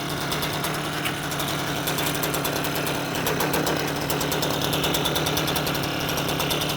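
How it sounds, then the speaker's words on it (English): Two-stroke scooter engine running after a smoky cold start, a steady light buzzing idle with rapid irregular ticking and small pops, moderately close and alone without talk. "Aside the smoke, obviously your 2-strokes make those little popping sounds."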